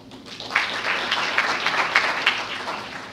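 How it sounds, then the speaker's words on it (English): Steady audience applause from a seated crowd at a business competition event, as judges are introduced one by one; dense clapping throughout with a few sharper peaks, no talk. "Let's give him a round of applause one at a time."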